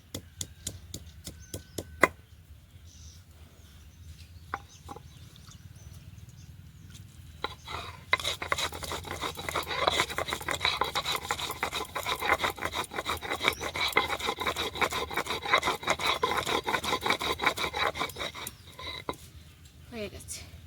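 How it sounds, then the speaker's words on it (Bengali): Garlic and ginger ground by hand on a traditional grinding stone for a fish curry, a steady rasping rub that starts with a few sharp knocks, then turns into a long, even scraping rhythm close by with no talk. "এটা প্রথমে থেঁতো করে তারপর শিলে ভালো করে পেশাই করে নেব"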